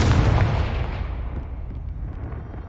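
A Confringo fire spell blast from a Harry Potter video game bursts out as a loud, close boom, rumbling and fading smoothly over a few seconds, with no voices.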